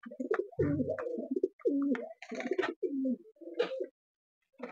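Pigeons kept indoors coo in a series of soft, throaty, rolling calls with brief pauses between them, close by and fairly quiet.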